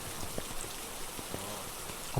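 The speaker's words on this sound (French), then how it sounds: "En plus, il pleut là." Steady rain hisses down outdoors in a dense, even patter, loud and close, with a few heavier drops tapping through and no talking.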